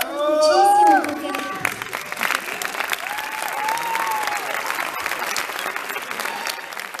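Concert audience ovation: dense, sustained applause with crowd noise, a brief whistle or cheer near the start, and faint voices mixed in as the clapping continues steadily.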